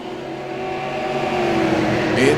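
Super late model race cars at Milwaukee Mile roar through the turns in a steady, rising engine drone, with an announcer calling the race over it.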